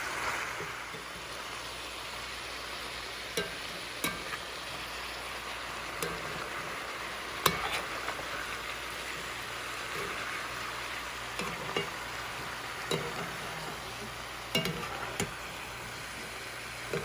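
Beef and chayote sizzle steadily in a frying pan while being stirred slowly, with a constant close hiss broken by occasional light ticks and clacks of the utensil against the pan.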